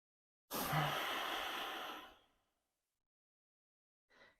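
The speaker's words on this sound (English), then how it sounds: "See, I'm breathing through the nose." A slow, steady breath drawn in through the nose during a paced breathing exercise, close and fairly loud, lasting about a second and a half before fading, followed by silence and a faint brief breath at the end.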